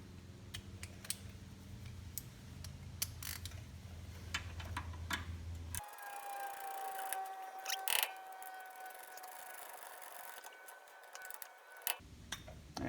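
A hex tool tightens the brake caliper bolts on an Oldsmobile Cutlass, giving close, quiet ratcheting clicks and small metallic ticks in irregular bursts, with a shift in background noise partway through.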